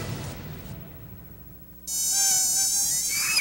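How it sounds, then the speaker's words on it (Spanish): A dengue-carrying mosquito buzzes loudly and close, a high whining drone that starts abruptly and holds steady with a wavering pitch, no talk over it. "El mosquito transmisor del dengue vive en recipientes que contienen agua."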